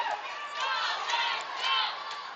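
Fans of a youth hockey team chant a rising and falling cheer in an arena, many voices blending into a sustained rhythmic call at moderate distance.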